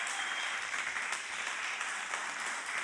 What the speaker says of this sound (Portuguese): Aplauda a vida dessa serva de Deus aí